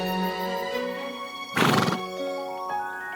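A horse whinnies once, a loud, close neigh rising out of a sustained musical background in a narrated fairy-tale scene.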